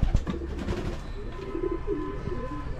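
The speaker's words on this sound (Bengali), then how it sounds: "কত পায়রা রাখা রয়েছে এখানে," Pigeons kept in a zoo enclosure coo in low, rolling calls that repeat through the clip, fairly close, over a dull background hum with a few knocks at the start and no talk.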